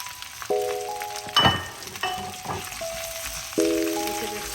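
Tomato and red and green peppers fry in a pan for chicken Manchurian, giving a steady close sizzle with stirring scrapes and a louder hiss as more goes in, while tonal beeps sound over it.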